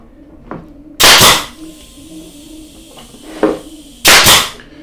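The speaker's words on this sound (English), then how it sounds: "I've got a leaky air gun." A leaky pneumatic air nail gun fires two loud, sharp bursts about three seconds apart, each with a hissing tail, in a workshop while a plastic drawer case is built into a cabinet; fainter knocks and air hiss fill the gaps.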